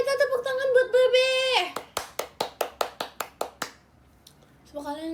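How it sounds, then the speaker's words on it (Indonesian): A group claps for Bebe during a live chat stream, about a dozen quick even claps mid-clip, close and fairly loud, with a voice talking before and briefly after. "Ayo kita tepuk tangan buat Bebe."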